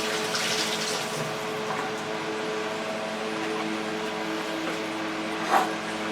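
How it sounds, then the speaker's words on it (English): Lemon juice and water poured off sliced apples for fried apples with raisins, a steady continuous liquid pour with a soft splashing wash that holds evenly throughout, close by and alone with no talking. "Okay, I'm going to pour the water off."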